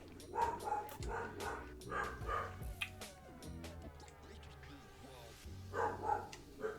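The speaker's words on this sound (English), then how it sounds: "my dogs are barking in the background" Several dogs bark in the background of an indoor room, loud in bursts near the start and again at the end, under steady talk from a person.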